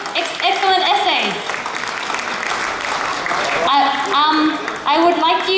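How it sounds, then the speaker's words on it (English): An audience at a community Mid-Autumn Festival event in a town hall applauds steadily, a broad wash of clapping running throughout while voices speak and call out over it. "Give a round of applause for everyone on stage and all the excellent essays."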